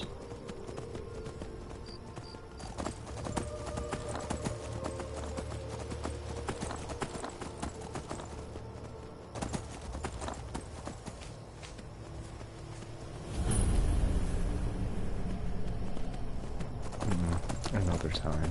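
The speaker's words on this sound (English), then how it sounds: "Beautiful horse." Hooves clip-clop at a steady walking rhythm as a horse moves through a video game, with a denser, louder stretch of movement near the end, under spoken commentary.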